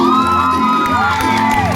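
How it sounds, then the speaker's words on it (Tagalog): A wedding crowd cheers and whoops for a newly married husband and wife, a loud, continuous roar of voices close by with high shouts rising over it. "Wala pong lalakas ang palakpak na yan."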